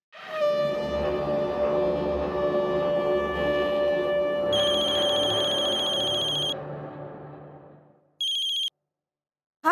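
A telephone ringtone plays loudly and close, a sustained melodic electronic ring with bright beeping bursts near its end before it cuts off abruptly; no one speaks over it.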